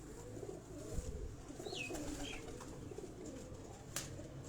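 Pigeons cooing on a house rooftop, a soft low coo repeating over steady outdoor background noise, with a brief higher bird chirp partway through.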